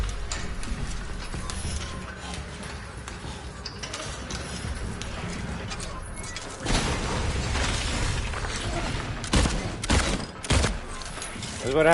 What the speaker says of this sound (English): You shoot everything but the fucking hand